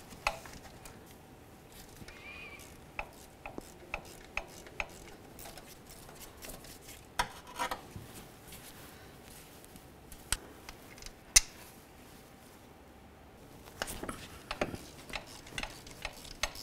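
Two 10mm tensioner mounting bolts on a 2010-2013 Ford Transit Connect 2.0L are worked loose with a tool, producing sparse, quiet metallic ticks and clicks at an uneven pace.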